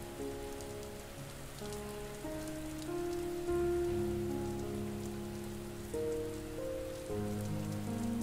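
Rain falls steadily as a soft, even patter beneath gentle sustained meditation music with slowly changing tones, quiet throughout.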